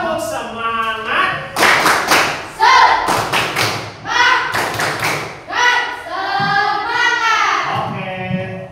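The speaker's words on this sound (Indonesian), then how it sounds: "Tepuk semangat." A school class claps a rhythmic spirit clap together, sharp hand claps landing in patterned groups between chanted voices, loud and close in a classroom.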